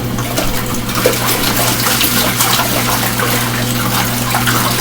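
Water pours steadily into an LG ThinQ MEGA Ultimate washer filling for a rinse, a loud, continuous gushing rush with a low hum underneath and no voices.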